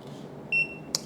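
A smart digital multimeter gives a single short, clear electronic beep as it is switched on, followed by a small click.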